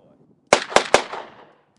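Three sharp gunshots in quick succession, the last two close together, each with a long decaying tail fading over about a second, set at a dog-training session for gunfire desensitizing.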